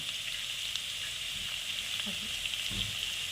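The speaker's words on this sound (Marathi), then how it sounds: "आता हे सर्व आपण परतवून घेत आहोत" Egg fried rice with turmeric, garam masala and salt sautéing in a pan, a steady soft sizzle with a few faint stirring scrapes, close and low in level.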